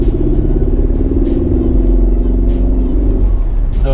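A 2013 Mercedes C250 CGI accelerates in E mode from about 30, giving a loud, steady engine drone that rises gently in pitch, heard from inside the cabin.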